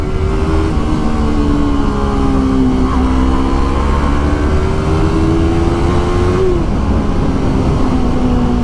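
A motorcycle pulls a wheelie on an open road, its engine droning steadily with rising and falling pitch as the revs shift, loud and continuous over wind rush throughout.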